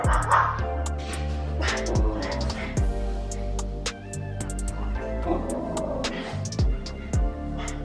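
Several dogs bark and yip inside a house, sharp repeated barks scattered throughout over a steady background of music.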